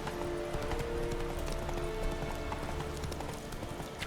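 Roach, the horse in The Witcher 3, moves on steady hoofbeats in a fast, even clip-clop rhythm that runs continuously through the game audio at a quiet level, with no talking.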